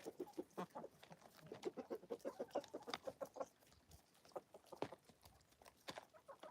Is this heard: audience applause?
no